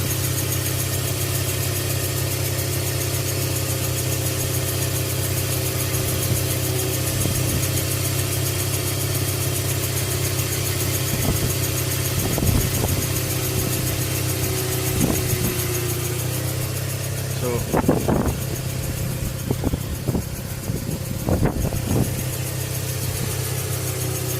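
A Mazda RX8 rotary engine idles smoothly and steadily at close range, a continuous even hum with a few faint knocks and clicks in the later part.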